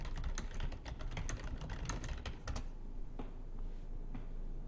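Rapid keystrokes on a computer keyboard as a command is typed into a Linux terminal, a dense run of clicks for about two and a half seconds, then a few isolated key taps over a quiet room hum.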